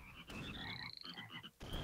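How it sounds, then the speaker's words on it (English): Frogs croaking in the artillery game Shellshock Live, a dense chorus of rapid, repeated croaks and chirps that fills the whole moment, with no talking over it. "Frogs!"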